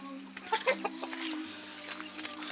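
Chickens cluck softly in a quick scattered series in a farm coop on a hot day over a steady low hum, fairly faint and close by.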